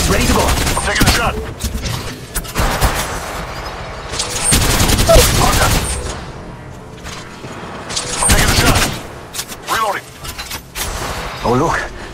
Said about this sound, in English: Bullets ready to go. I'm taking a shot.